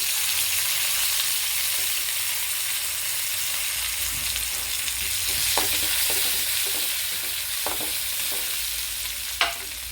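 Shallots, ginger and curry leaves fry steadily in a pan, giving a continuous close sizzle broken by a few sharp crackles and pops near the end, with no voices.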